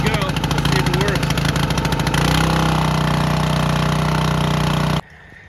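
An engine-driven water pump starts up and runs with a loud, steady mechanical drone and a throttle-set hum that cuts off abruptly near the end.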